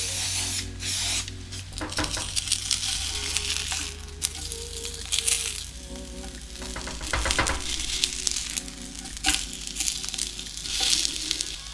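Veggie burger patties sizzle in hot oil in a pan, a loud, steady crackling hiss that swells and dips as they cook, with faint scraping and clinks throughout and no voices.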